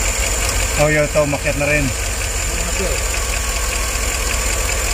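Chevrolet Tahoe engine idling smoothly after an intake-manifold misfire repair, a steady close low rumble with someone speaking briefly over it early on.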